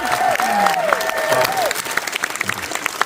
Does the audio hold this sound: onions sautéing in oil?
no